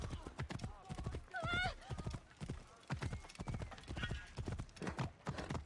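Quick rhythmic hoofbeats of a galloping horse in the video game Assassin's Creed Origins, close and steady, with a short whinny partway through.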